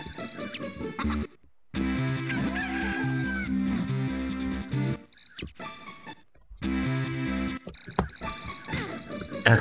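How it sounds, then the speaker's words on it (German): Chicken clucking in The Legend of Zelda: The Minish Cap with a chicken up on a roof, heard as game sound effects mixed into steady looping game music, with brief drops into silence between passages. "Ein Huhn auf dem Dach."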